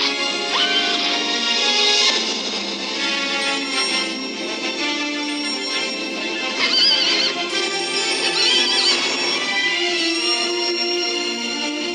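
A horse neighs in a stop-motion fantasy film scene based on Greek mythology, with repeated shrill whinnies over a dense, continuous orchestral music score at steady loudness throughout.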